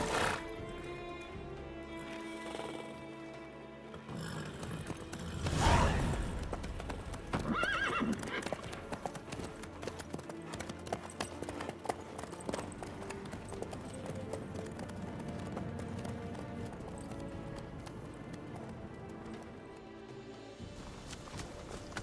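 A horse in The Witcher 3 neighs loudly near the start, then clip-clops steadily at a walking-to-trotting pace under game music and brief voices, hooves staying close and even throughout.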